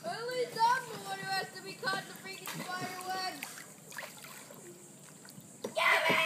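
Paddling a boat or kayak at a kids' expedition camp: irregular water splashes and stirring under loud voices calling out, with a burst of splashing near the end.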